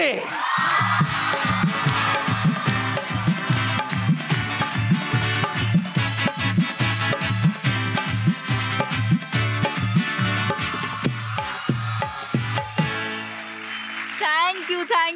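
A television studio audience claps and cheers loudly as a guest walks on, dense steady applause with whoops, then it dies down and a voice starts speaking near the end.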